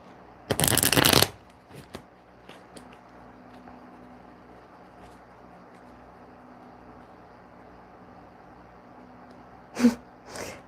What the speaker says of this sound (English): I'll try and shuffle so that we don't jiggle too much.